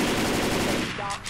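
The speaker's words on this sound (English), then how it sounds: "Stop shooting me!" Dense, continuous automatic gunfire from the zombie shooter Left 4 Dead 2, loud and rapid throughout, easing slightly near the end where a faint voice cuts in.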